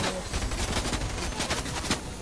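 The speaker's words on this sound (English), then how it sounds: "The guards are shooting at you?" Dense, continuous gunfire in the Fortnite video game, with rapid overlapping shots and bursts blending into a loud, sustained barrage throughout.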